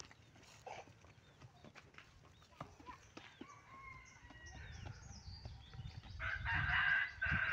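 Chickens cluck and a rooster crows in an outdoor yard, with scattered knocks and rustling and a louder burst of crowing near the end.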